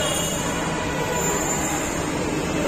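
Steady rumbling rail noise of a metro train at a station platform, a continuous broadband roar that stays level and fairly loud throughout with no talk.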